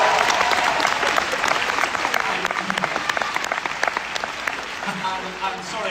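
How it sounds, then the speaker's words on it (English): Audience applause at a charity gala: steady, fairly close clapping from a sizeable crowd, with individual claps standing out and a few voices faintly audible beneath. "so a round of applause for that, please."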